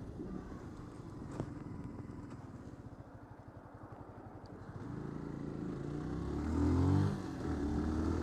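A Yamaha R15 motorcycle engine idles nearby with a steady, low putter, then swells briefly in a rising rev before settling back; the sound is fairly quiet overall.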